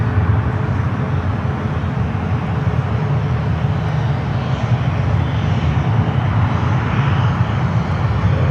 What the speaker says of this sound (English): a United 777 touching down